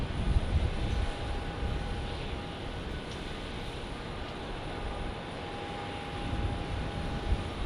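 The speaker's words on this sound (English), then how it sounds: "this 737-800 actually going to Salt Lake City here" Boeing 737-800 airliner at Phoenix Sky Harbor airport, its engines giving a steady, distant roar that swells slightly at the start and again near the end, with no talk over it.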